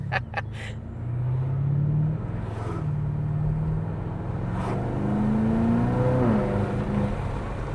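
V8 car engine with an opened exhaust rumbles at idle, then revs up and settles in a few swells, loud and close.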